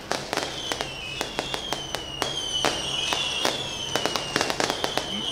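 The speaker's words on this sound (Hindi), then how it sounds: "शोर आतिशबाजी का खासा ज़्यादा" Fireworks go off at a street celebration in Pakistan marking Saad Hussain Rizvi's release, with sharp cracks and bangs repeating rapidly over a steady roar of crowd and background noise.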